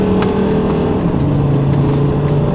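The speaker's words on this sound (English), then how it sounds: "when you drop it down gear, it's got a really nice sort of racy growl" A Volvo XC90 R-Design growls after a manual-mode downshift, a steady close engine drone heard from inside the car.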